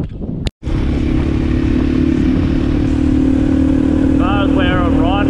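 A motorcycle fitted with a 15-litre Acerbis fuel tank rumbles along at a steady, loud engine note close to the microphone, with a brief cutout early on and no voices over it.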